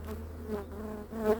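A steady, droning buzz of many honey bees, close and continuous, with slight swells in loudness and no voices.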